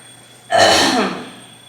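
A single short, harsh, phlegmy cough from someone ill, close and fairly loud, then quiet.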